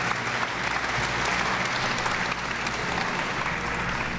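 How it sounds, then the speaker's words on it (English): A crowd breaks into sustained applause, many hands clapping densely and evenly, loud and close, with no pause. "how about a big round of applause for everyone?"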